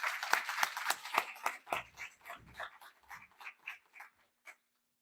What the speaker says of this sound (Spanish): Démosle un fuerte aplauso al doctor Valdemar, por favor.